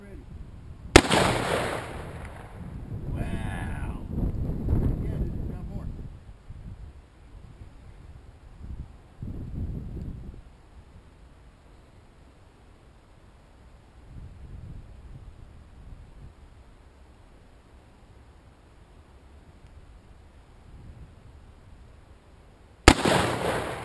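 An AR-15 rifle fires two sharp, loud shots outdoors, one near the start and one at the very end, with booming echo and scattered talk in between.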